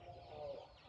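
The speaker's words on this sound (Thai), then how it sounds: "แต่ไก่ก็กำลังตื่นนอน" Chickens clucking as they come off the roost at dawn on a misty morning, a steady low murmur of close fowl calls with no pauses across the short stretch.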